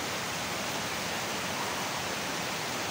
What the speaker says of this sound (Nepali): खोला बढेछ